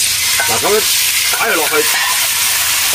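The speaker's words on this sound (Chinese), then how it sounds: "煎一煎佢啊，煎一煎佢就得噶啦" Beef for a choy sum stir-fry sizzles steadily in a wok, a loud continuous frying hiss with scraping stirs, while a person talks over it.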